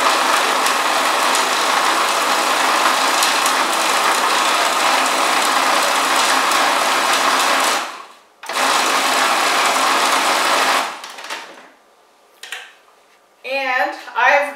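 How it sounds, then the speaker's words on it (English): A food processor chops kale with a loud, continuous mechanical whir for about eight seconds, a brief stop, then another run before it shuts off; a person speaks near the end. "I'm going to just turn on my food processor"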